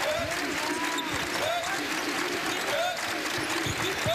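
Basketball arena crowd roaring and cheering during an LMU game against Gonzaga, a dense sustained wash of noise with a commentator talking over it throughout.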